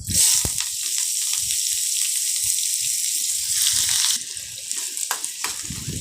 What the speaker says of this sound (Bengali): কড়ায় তেল গরম করতে বসিয়ে দিয়েছি তেলটা গরম হয়ে গেছে এবার আমরা পেঁয়াজ কুচিটা